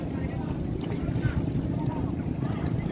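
A steady, rumbling boat engine drones low and constant at Hundred Islands, Alaminos, with wind buffeting the microphone throughout.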